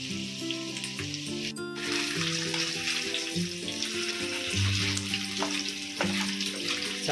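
Tikka masala-marinated chicken fries in a pan with a steady, close sizzle and crackle, accompanied by occasional clinks and stirring noises, with a tonal hum underneath.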